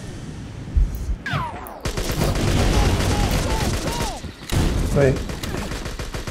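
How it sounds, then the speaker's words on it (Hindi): Machine gun fire rattles in rapid bursts during a video game shootout, loud and close, with a voice talking briefly over the noise. "ये मशीन गन से मार रहे भाई।"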